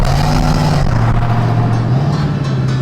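A truck engine idles loud and close, holding a deep steady drone that dips and rises slightly as the throttle is blipped, with no talk over it.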